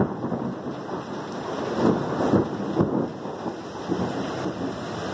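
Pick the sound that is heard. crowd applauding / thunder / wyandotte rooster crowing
thunder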